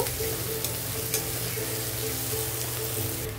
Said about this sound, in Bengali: আদা কাঁচা লঙ্কাটা ভালোভাবে ভাজা হয়ে গেছে।